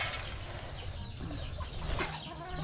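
Chickens cluck softly nearby amid a busy, rustling background, with no talking.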